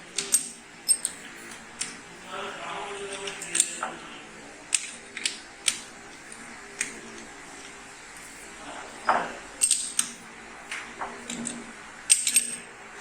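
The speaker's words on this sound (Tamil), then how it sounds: "இந்த கீ பேர் வந்து சக் கீ அப்படின்னு சொல்லுவாங்க. இந்த சக் ஸ்க்ரூ பாருங்க, ஜா ஸ்க்ரூ, இதை ரொட்டேட் பண்ணுறதுக்காக யூஸ் பண்ணுறோம்." A chuck key turns the jaw screws of a lathe chuck, producing a series of sharp metallic clicks and ratcheting ticks, irregular and close, with soft clunks in between.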